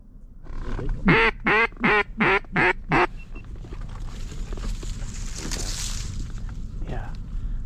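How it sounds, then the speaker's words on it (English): A rapid run of about six loud, nasal quacks from hen pintail ducks comes up close near an ice hole during a duck hunt, followed by quieter ambient noise and a faint voice. "I think they're all like hen pintails"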